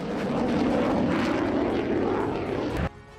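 A Ukrainian MiG-29 fighter jet's engine roars loudly and steadily inside the cockpit during combat action, then drops off abruptly near the end to a quieter hum.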